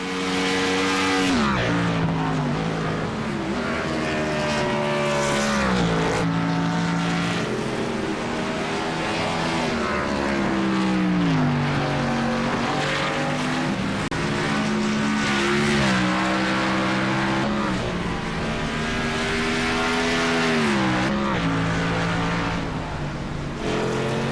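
Race cars, including Ascent Racing's number 9, screaming around a track at night, engines rising and falling in pitch through gear changes and corners, loud and continuous with overlapping passes.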